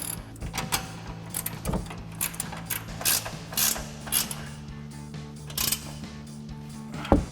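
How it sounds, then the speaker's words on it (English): A 21mm ratcheting wrench tightens the upper control arm bolts on a 2019-2024 RAM 1500 during a Rough Country lift kit install, giving repeated close ratchet clicks in uneven bursts, with no talking. "now we're gonna go ahead and tighten down our upper control arms bolts. We're gonna use our 21mm ratcheting wrench."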